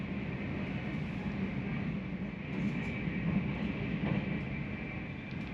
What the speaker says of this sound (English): the train crosses the IJssel on the